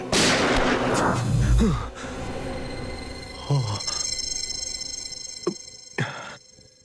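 Gunshots ring out in a forest, with a loud opening burst followed by several sharp single cracks spaced a second or two apart, each trailing off with a ringing echo over faint background hum.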